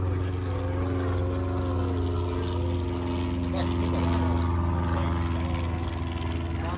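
A light aircraft fitted with bush wheels performs at the Oshkosh AirVenture airshow, its propeller engine droning steadily and fairly loud throughout, with a slight rise in intensity midway and crowd noise beneath.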